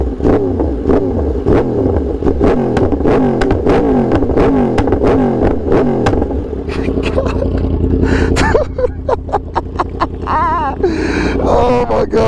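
A Yamaha R1M sport motorcycle fitted with a new aftermarket exhaust revs hard and loud up close, rapid repeated throttle blips rising and falling, then a long climbing roar with gear changes as it pulls away.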